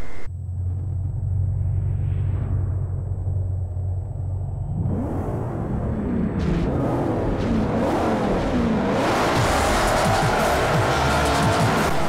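A muscle car races in the video game Forza Motorsport 4, its engine idling low before revving hard and roaring continuously, with tire squeal and skidding building loudly toward the end; no talking.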